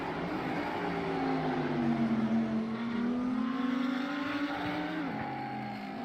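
Lamborghini race car engines in a sim racing game at Interlagos, a steady high whining drone with gliding pitch as the cars hold speed and shift, loud and continuous throughout.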